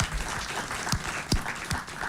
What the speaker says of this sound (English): A round of applause for Dr. Sarah Akrofi-Kwaku.